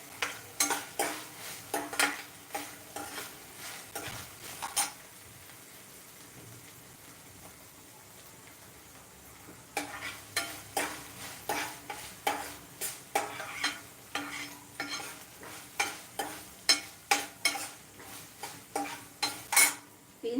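Ginger-garlic paste sizzles in a pan for paneer bhurji, with repeated scraping stir strokes in a steady rhythm, a quieter stretch in the middle, then brisk stirring again; no talking.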